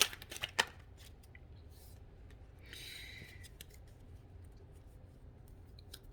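Tarot cards riffle and snap in a quick shuffle at the start, then quieter slides and soft card handling follow at close range in a calm room.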